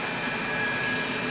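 A Rotimatic automatic roti maker runs with a steady, dense mechanical whir and hum, loud and close, with no break across the short stretch.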